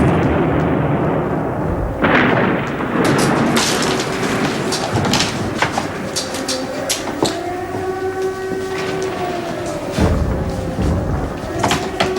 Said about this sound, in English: I suggest that we take shelter whilst this bombardment continues.